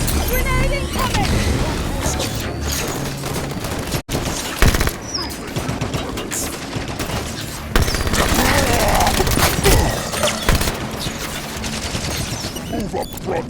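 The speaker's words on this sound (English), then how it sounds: "Grenade incoming!" Battle in Halo 5: continuous rapid gunfire and blasts fill the scene, with a sharp explosive hit partway through, while voices call out over the steady combat noise.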